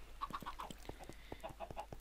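Chickens cluck in the video game Minecraft, a quick series of short, soft clucks and chirps in a steady rhythm, faint in the background with no one talking.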